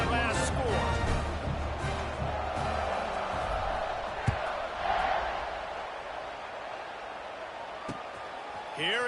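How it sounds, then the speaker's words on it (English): A college football stadium crowd at Baylor vs Penn State buzzes after a touchdown, a broad, distant roar of many voices running underneath a commentator's talking. "this crowd is buzzing after that last score"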